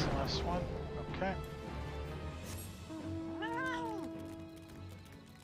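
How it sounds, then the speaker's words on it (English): A house cat meows up close, with a short meow early on and a longer, rising and falling meow later, over faint game sounds and background noise. "There's a cat currently using my hand as a pillow"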